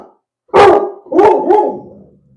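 A guard dog gives three loud, deep barks close by indoors, one heavy bark followed after a pause by two quicker ones, with no talking over them.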